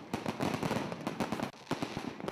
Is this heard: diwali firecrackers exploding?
yes